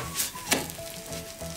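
Grated nagaimo yam bound with potato starch frying in a pan, giving a steady close sizzle with a few brief louder bursts and no talking.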